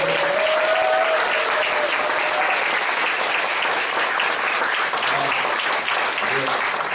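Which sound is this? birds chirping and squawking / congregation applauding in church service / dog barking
congregation applauding in church service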